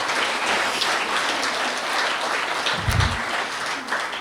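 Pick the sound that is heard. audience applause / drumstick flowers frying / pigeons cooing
audience applause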